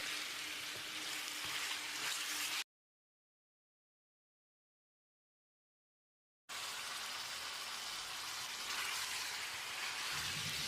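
A chopped tomato fries in hot oil in a pan for a chicken curry. The sizzle is steady and fairly quiet, and it stops for a few seconds of silence before coming back.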